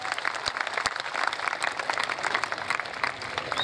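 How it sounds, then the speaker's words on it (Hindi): A crowd at a Rajasthani poetry gathering during the Shekhawati festival gives a short round of applause, with fairly faint, uneven clapping and a few sharp claps rising above the patter. "एक बार जोरदार तालियां बजा कर आप"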